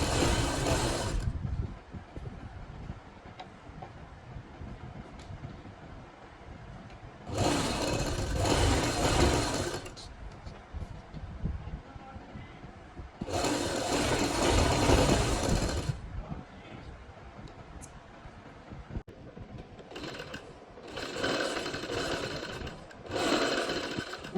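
A sewing machine stitches a kachhera, running in loud, fast whirring bursts of a few seconds each, separated by quieter gaps of handling and fabric movement, close to the listener.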